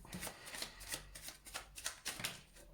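Tarot cards are shuffled and drawn from a deck during a reading, giving a close, quiet run of papery flicks and soft slaps in an irregular rhythm, with no voices.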